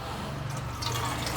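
Water runs steadily from a tap while rice is rinsed, a short, continuous rushing splash that swells slightly louder halfway through, with no talking.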